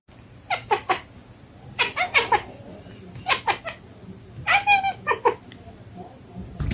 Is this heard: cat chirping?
yes